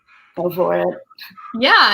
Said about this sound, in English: Sorry that my dog is still barking.